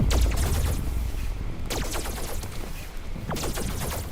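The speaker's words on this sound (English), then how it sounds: "she has like twin laser pistols" Twin laser pistols firing in a video game, sharp repeated shots in quick bursts separated by short gaps, fairly faint and steady throughout.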